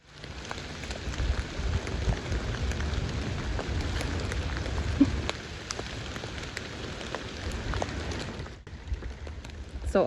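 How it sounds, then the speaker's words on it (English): Steady rain falling through a forest, a dense even patter that holds for about eight seconds before briefly thinning, with no voices over it. "I wish you guys can hear the rain."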